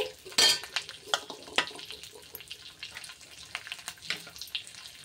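Sharp crackles and sputters of dried chili frying in hot tempering oil for buttermilk rasam, mixed with clinks of a utensil against a pan, in irregular bursts.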